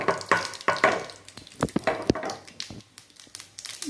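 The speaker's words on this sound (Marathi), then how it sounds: "तेल गरम झालेलं आहे, तर यामध्ये मी जिरं मोहरी टाकून घेणार आहे." Cumin and mustard seeds dropped into hot oil, crackling and popping close up in irregular sharp bursts over a steady frying hiss, no voices.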